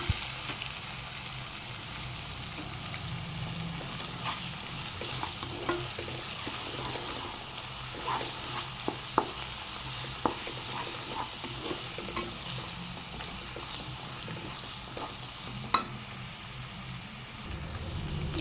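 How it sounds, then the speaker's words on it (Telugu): Ginger and mint fry in a pan for a broiler chicken curry, giving a continuous close sizzle with frequent scraping stirs and a few sharp utensil clicks, no voices. "ఇందులోనే కొంచెం పుదీనా వేస్తున్నా ఎల్లం పచ్చివాసన పోయేదాకా వేసుకుందాం"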